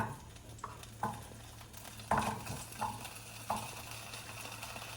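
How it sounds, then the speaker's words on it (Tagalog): Potatoes fry in cooking oil in a pan, a soft steady sizzle broken by several light scrapes and stirs, close and fairly quiet, with no talking. "maglagay ng cooking oil sa pan at iprito ang patatas."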